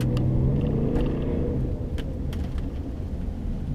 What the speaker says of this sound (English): the first pass is going to be in a straight line acceleration with traction control on